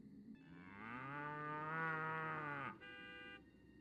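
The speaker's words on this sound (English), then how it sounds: "people literally speak cow in this game" A cow moos as character dialogue in the PS2 prototype of Destroy All Humans, one long drawn-out bovine call that drops off abruptly into a fainter tail, with no speech around it.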